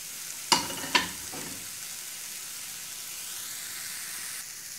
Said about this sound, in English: After about a minute, we'll go in with our minced garlic